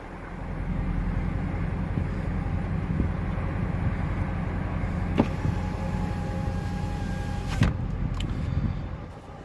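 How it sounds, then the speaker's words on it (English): A Dodge Charger fitted with hand controls driving slowly in drive, a steady low engine and road rumble heard from inside the cabin, with a couple of faint clicks and creaks and no voices. "Let up on the brake. We're moving in drive."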